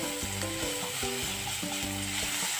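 Ginger and garlic paste sizzles in a hot pan, a steady broadband fry with faint tonal kitchen hum underneath, continuous and close throughout with no talking.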